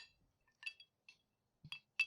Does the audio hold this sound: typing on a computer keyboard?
no